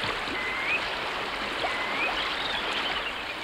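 Water flows through a beaver dam of sticks at a Rocky Mountain beaver pond, a continuous rushing trickle at moderate level, with faint bird chirps above it.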